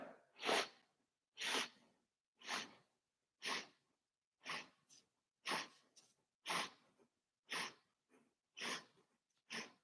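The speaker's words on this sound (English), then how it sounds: "and then keep breathing in for 10." Deep, forceful breaths during a bodyweight strength workout breathing exercise, about ten sharp, evenly spaced breath bursts roughly once per second, close to the microphone with silence between, no talk.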